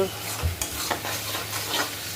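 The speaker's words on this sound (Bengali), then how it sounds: "মশলাটা হালকা আছে একদম হালকা আছে ভাজা ভাজা হতে থাকবে" Meat fries with spices in a pan, a close continuous sizzle broken by a few stirring scrapes, with no voices.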